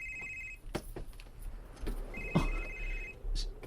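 A telephone rings with an incoming call, its trilling bursts sounding twice at moderate level over room noise, with a brief knock or clatter in between.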